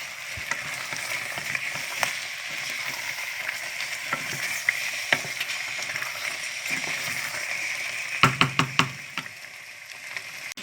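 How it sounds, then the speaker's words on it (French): Fish pieces are stirred in a cooking pot for mangue sauce, a soft continuous scraping and bubbling sizzle throughout, with a short cluster of sharper knocks of the utensil against the pot near the end. "Je vais maintenant mettre l'autre partie dans ma marmite. Je vais remuer."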